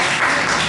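Brief burst of audience applause at a comedy show, steady broadband clapping throughout, fairly loud and close.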